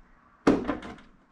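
A car hood fitted with real latches and billet racing hinges, snapping shut with one sharp, close metallic thunk that decays quickly into silence.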